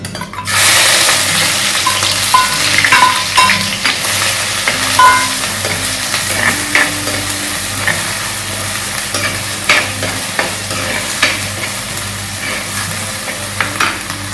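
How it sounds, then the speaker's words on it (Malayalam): Fenugreek seeds and spices sizzle steadily in hot oil in a pan as the base for a fish curry. The frying sits close and loud throughout, with stirring scrapes and small crackles over the continuous hiss, and no talking. "ഞാൻ ചട്ടി വെച്ചിട്ട് ഉലുവൊക്കെ പൊട്ടിയിട്ടുണ്ട് അപ്പോൾ ഇതൊന്നും ഇടട്ടെ കേട്ടോ"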